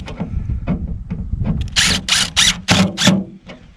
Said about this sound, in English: have no problem whatsoever just drilling a hole into a body panel.